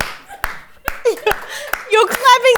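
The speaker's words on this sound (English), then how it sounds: "you're clapping yourself" A few sharp hand claps ring out close and loud, spaced irregularly, mixed in with lively talk and chuckling.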